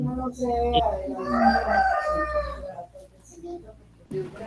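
A hen clucks and crows loudly and close by, with a drawn-out call in the middle and quieter clucks after it, over low background hum.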